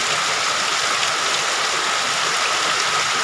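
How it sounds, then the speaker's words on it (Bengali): Steady heavy rain pouring down at Lakshmir Char, Jamalpur Sadar, Bangladesh, a dense continuous hiss with no pauses and no voices. "বিশ মিনিট যাবৎ একই ধারে বৃষ্টি হইতেছে এখনও বৃষ্টি থামে নাই"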